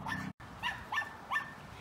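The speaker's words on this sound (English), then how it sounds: "that's my dog Freya." A dog gives three short, close, moderately loud yips or barks in quick succession, evenly spaced, with nobody talking.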